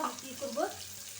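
Chopped onion, garlic and green chilies frying in hot oil, a steady close sizzle with faint stirring over a short moment, no talk.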